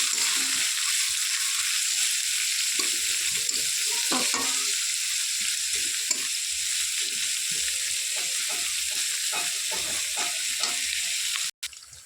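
Carrots and beans with onion and green chili stir-frying in a pan, a steady hiss of sizzling oil with scattered scraping and stirring clicks, continuous for several seconds before a sharp knock near the end.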